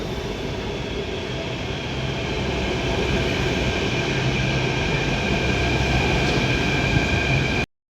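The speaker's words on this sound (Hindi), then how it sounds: "मैं बता रही थी मेरी ट्रेन आ गई थी" A Delhi metro train pulls into an underground station with a steady rumbling drone and a high electric whine that builds gradually, loud and close, before cutting off abruptly.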